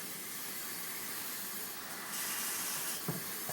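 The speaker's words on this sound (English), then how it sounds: "can you hear the onions? They're starting to go. They're starting to sizzle." A soft, continuous hissing sizzle of onions frying in a pan, steady and faint, swelling slightly partway through.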